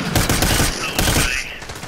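Loud, dense gunfire in the America's Army video game, a continuous crackling fusillade of overlapping shots with no break over the short stretch, close and harsh.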